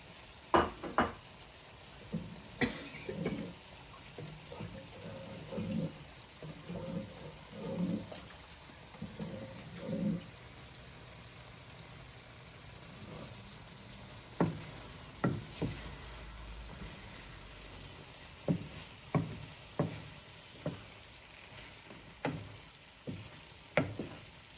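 Rice fried with soy sauce being stirred in a pan, a soft continuous sizzle with regular spoon scrapes and light taps against the pan throughout.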